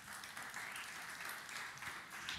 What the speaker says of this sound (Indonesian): Yang percaya, tepuk tangan yang meriah bagi dia